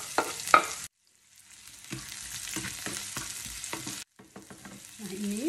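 Onion and garlic sautéing in a little leftover tofu frying oil, with a steady close sizzle and repeated stirring scrapes, a short silent gap near the start and another brief break toward the end.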